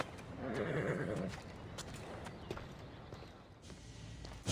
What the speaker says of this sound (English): He's a special horse and belongs to Hades.